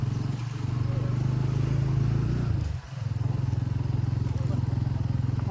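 A motorcycle engine idles close by with a steady low throbbing putter, briefly dipping partway through before resuming its even rhythm.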